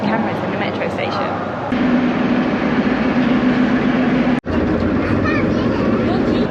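A metro train in a Tashkent metro station makes a steady, loud rumble and rolling roar that rises slightly in pitch midway, broken by a sudden brief dropout near the end.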